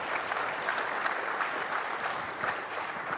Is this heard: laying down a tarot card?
no